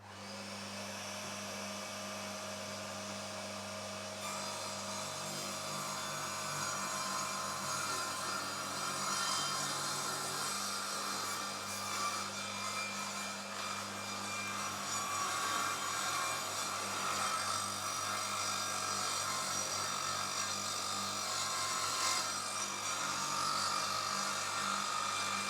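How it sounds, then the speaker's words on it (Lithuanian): An Einhell TC-TS 200 table saw with a vacuum hooked up runs through wood, giving a loud continuous whine and roar that holds steady for the whole stretch, with the cutting load shifting slightly and no talking. "pamėginam pjauti, siurblį prijungiau, triukšmo bus"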